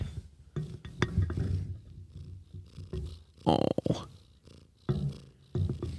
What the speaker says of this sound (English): hear her purring.